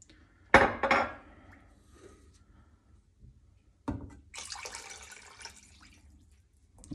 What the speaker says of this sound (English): Now we're going to add 5 to 6 cups of cold water. Just pour that right in.